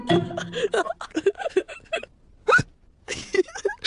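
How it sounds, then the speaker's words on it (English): A cartoon pig has hiccups, several sharp, close vocal hiccups spaced irregularly, with brief voiced sounds and silent gaps between them. "and now he has hiccups."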